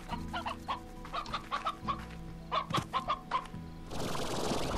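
Hens in the video game Slime Rancher cluck repeatedly in short rhythmic phrases, close and clear, before a burst of broadband noise takes over at the end.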